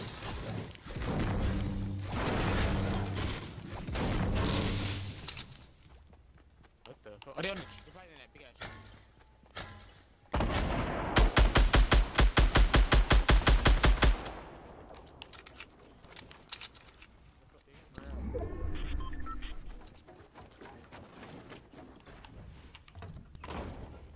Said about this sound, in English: Who's that shooting? It's me.